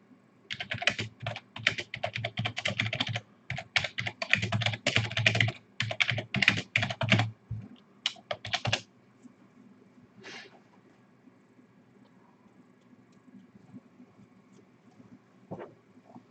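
Typing on a computer keyboard, close and clear: rapid bursts of clicking key strokes for about nine seconds, then a few isolated taps among quiet gaps, with no talking.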